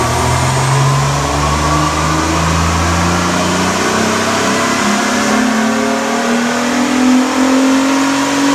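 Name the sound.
Honda J35 Pilot engine revving on dyno without supercharger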